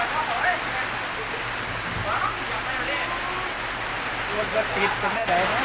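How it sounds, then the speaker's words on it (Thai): Heavy storm rain pours down steadily as a dense, constant hiss in Khok Lam, Chaturaphak Phiman, Thailand, with faint voices underneath. "ฝนตกหนักเลย"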